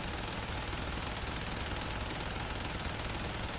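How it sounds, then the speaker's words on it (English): Soma Prime assault rifle in Warframe emptying its whole magazine, a dense, continuous roar of rapid automatic fire holding steady at full loudness for the entire stretch with no pauses. "If you dump your whole magazine,"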